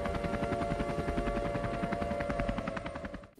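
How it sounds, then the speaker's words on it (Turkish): A helicopter arriving in the video game Minecraft, a fast regular thudding of rotor beats over a steady engine tone, loud and close before easing off at the end. "İşte helikopter sesi."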